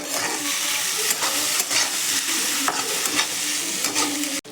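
Pasta being stirred in a frying pan with turmeric, a continuous close scraping and sizzling with periodic spoon clacks against the pan.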